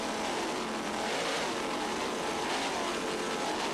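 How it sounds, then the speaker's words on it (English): A 41-foot Apache offshore powerboat with twin 1040 Zool inboard engines and Mercruiser drives racing in the Key West world championship, a steady loud roaring engine drone with no talking. "It's a 41-foot Apache powered by two 1040 Zool inboards with Mercruiser drive."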